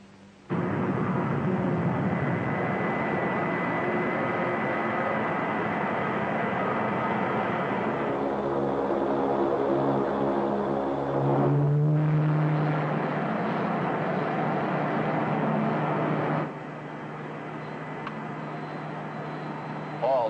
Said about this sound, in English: The orbit jet is in the process of landing.